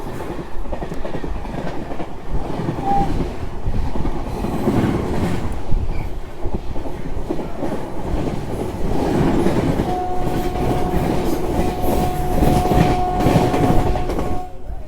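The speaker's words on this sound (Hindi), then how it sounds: "फ़िलहाल हमारी ट्रेन पहुंच रही है लुधियाना रेलवे स्टेशन" Hemkunt Express general-class train rolling into Ludhiana railway station at night, with steady rumble and clatter of wheels throughout, a continuous tonal squeal or horn-like whine emerging in the second half.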